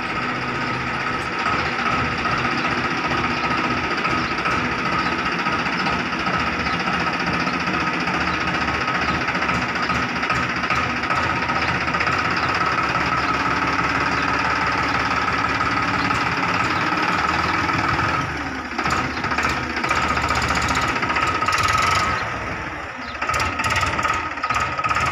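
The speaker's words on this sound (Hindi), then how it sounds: "ट्रैक्टर पार्किंग के अंदर से बाहर निकालने" A farm tractor's diesel engine chugs steadily and loudly at close range as it is driven out of its parking spot, a constant knocking rumble that shifts briefly near the end.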